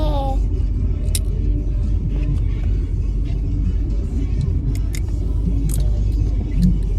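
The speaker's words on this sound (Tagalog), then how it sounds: "Nandito kami sa kotse." Steady low engine rumble and road noise inside a moving car stuck in traffic, loud and continuous throughout with faint clicks and rattles above it.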